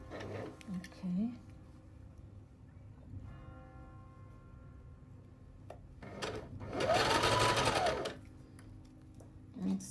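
A sewing machine stitches a sleeve onto a blouse in short bursts, then runs in one longer, louder steady whir, with someone talking between the runs.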